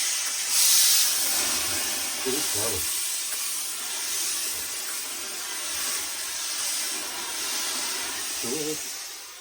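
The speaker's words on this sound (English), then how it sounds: "all I'm going to do is just give it a bit of steam" A steam iron releases a soft, steady hiss of steam onto a hat, a continuous low wash with a couple of faint knocks, no voices.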